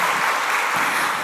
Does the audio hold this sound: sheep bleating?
no